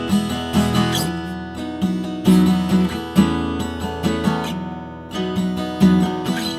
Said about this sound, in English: The intro is going to be guitar heavy with that strum pattern that we just learned in part 2.